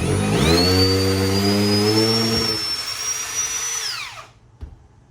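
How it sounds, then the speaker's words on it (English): A power drill whines at high speed for about four seconds while drilling out a chair joint, its pitch holding steady before winding down, followed by a faint knock. "actually drill it out so we don't drive it out the other side"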